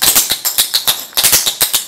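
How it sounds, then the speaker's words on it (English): Ottawa Valley step dancing basic step with its side-to-side change, a short run of sharp, evenly spaced foot taps on a hard floor, close and clear with no voices. "And the Ottawa Valley basic at the bottom will sound like this."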